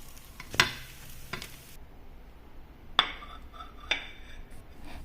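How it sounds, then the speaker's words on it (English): Millet padu frying in oil in a pan, a soft steady sizzle broken by a few sharp clinks and scrapes as the pieces are flipped over. "I flip them over and add in oil."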